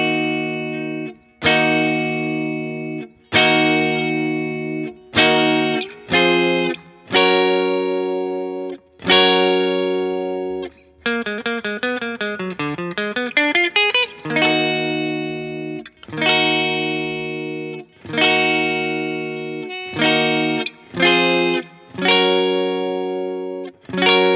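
A repeating guitar riff from a song, played through distortion and chorus effects. Bright chords ring out in separate strums, broken midway by a run of quick descending single notes, with no voices.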